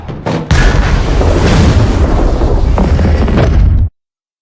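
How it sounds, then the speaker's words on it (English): A loud, sustained explosion from the sci-fi film Arrival erupts after a short lead-in and roars for several seconds before cutting off abruptly. "The feed wasn't interrupted by the explosion."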